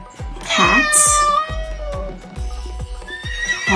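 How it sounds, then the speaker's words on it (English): A horse neighs with a high, wavering whinny near the start, then further whinnies mixed with other animal calls and rhythmic low thuds, all close and fairly loud without speech. "horses."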